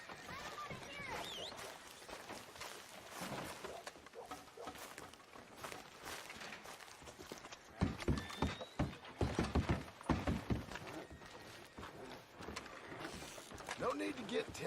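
Horse hooves clip-clop in Red Dead Redemption 2 as a rider arrives and hitches up in town, uneven thudding steps that grow louder midway, with character voices talking throughout.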